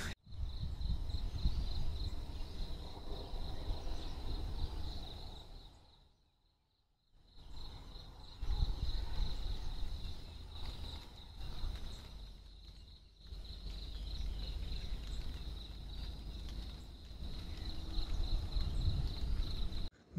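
Birds calling at sunrise near a foggy forest in rural Konkan, with a steady high insect-like trill running throughout and a brief quiet gap midway; low rustling underneath, no talk.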